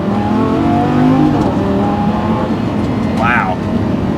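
A Lamborghini Gallardo's naturally aspirated V10 engine revs steadily from inside the car, a loud constant drone that rises and falls slightly, with a person talking over it.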